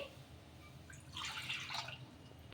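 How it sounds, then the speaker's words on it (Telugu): Water splashes softly into a kadai for rice-flour dough, a brief, quiet pour lasting about a second against a faint background. "రెండు కప్పుల నీళ్ళు అయితే వేసుకుంటున్నాను"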